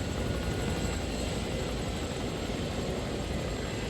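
A video-game helicopter's rotor in Arma 3 thrums in a steady, dense whir that stays constant and fairly close for a few seconds while hovering, with no voices.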